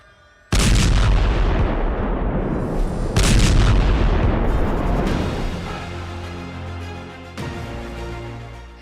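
Rockets fire in the Hezbollah–Israel war, erupting as a sudden loud roaring blast, then a second surge of roar that slowly fades, with another burst near the end.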